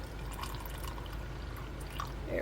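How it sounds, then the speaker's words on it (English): Water trickles and drips steadily into a rock tumbler barrel over rocks and grit, a soft continuous pour with faint splashes, close and quiet with no talking. "And then you just pour in enough water to cover the rocks."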